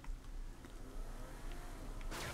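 A car in Saints Row The Third drives past with a revving engine whoosh, a faint, fluctuating rumble that swells and ends in a brief rushing burst.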